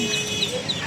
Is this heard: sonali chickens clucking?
yes